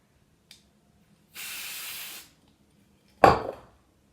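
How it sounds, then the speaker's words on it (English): Hairspray is sprayed from an aerosol can to set makeup, a steady hissing burst of about one second, close and clear in an otherwise quiet room, followed later by a sharper thump. "So I just have to use hairspray."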